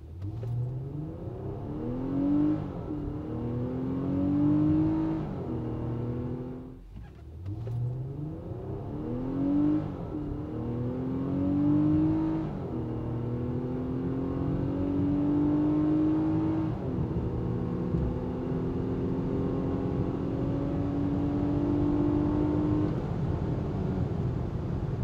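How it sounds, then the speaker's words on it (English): Infiniti QX60 accelerating hard from 0 to 100 km/h, engine revs climbing through several gear changes with brief dips between shifts, steady and fairly loud from inside the cabin, no talking. "Let me show you how fast the car accelerates from 0 to 100."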